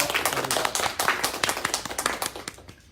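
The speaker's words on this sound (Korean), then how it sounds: "박수로 감사해 주셨으면 좋겠습니다." Audience clapping in thanks at the end of a lecture, dense steady applause from a modest crowd that thins and fades out near the end.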